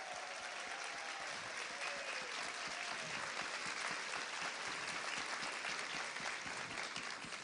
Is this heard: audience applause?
yes